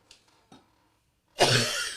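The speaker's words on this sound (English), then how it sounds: "I'm going to cough for a minute, uncontrollably." A person coughs in two short bursts, then breaks into a loud, continuous, uncontrollable coughing fit that fills the last half of the clip.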